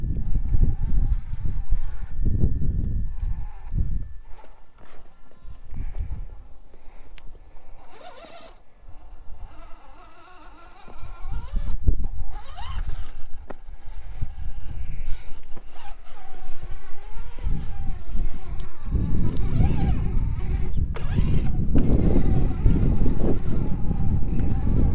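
RC rock crawler climbing a trail in first gear, its motor whining steadily under continual rumbling and scraping, with the sound swelling toward the end.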